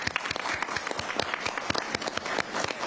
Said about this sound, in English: A big thank you to Sabrina, if we can give her a round of applause